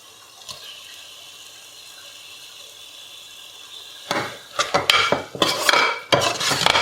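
Prawns being sautéed in masala in a pan for a coconut-milk prawn biryani. A quiet stretch is followed by loud, irregular clattering and scraping bursts from stirring, close by and with no voices.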